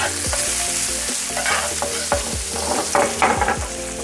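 Olives tossed into a hot pan with garlic, sizzling steadily with crackling spits and a few stirring scrapes and clinks, close and alone.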